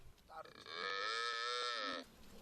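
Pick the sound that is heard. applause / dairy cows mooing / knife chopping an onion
dairy cows mooing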